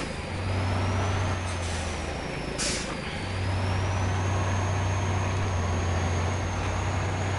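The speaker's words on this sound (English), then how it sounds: "This thing has a pretty loud turbo." A Dodge D6500 truck in the SnowRunner video game drives with a loud, whistling turbo that rises and falls above a deep, droning engine, with a brief hiss partway through.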